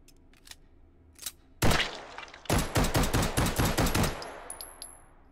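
Test gun firing gumdrops in the VR game Hot Dogs, Horseshoes & Hand Grenades: a few faint clicks, then a loud single shot, then a rapid burst of about a dozen sharp shots, close and with no talk over it.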